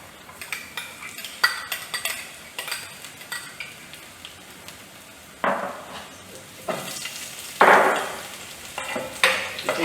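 Egg noodles sizzle in a frying pan during a stir-fry while a utensil scrapes and clatters against the metal, with sharper sizzling surges when stirred. No one speaks.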